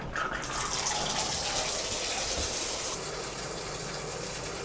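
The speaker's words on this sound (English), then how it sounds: "I'm going to go ahead and turn on the tub and run the tub right now." A bathtub tap runs water steadily into the tub, a continuous close gushing wash that holds level throughout.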